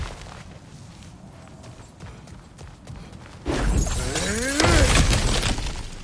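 In the God of War Ragnarok video game, cracked ground is smashed through: soft footsteps give way to a sudden loud crash and crumbling debris that grows heavier and rumbles before easing off.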